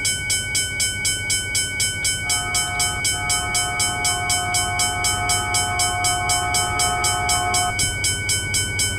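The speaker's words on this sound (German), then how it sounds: "hier warten wir mal auf unseren Zug." A train pulls into a station on the Peninsula Corridor line in Train Simulator, with a steady rumbling rail drone and a sustained multi-tone horn or chime held for several seconds before cutting off.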